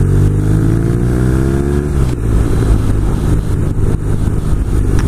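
BMW R nineT Cafe Racer motorcycle engine under way, loud revving with a falling pitch as it shifts, then a steady rough drone with wind rush, no talk.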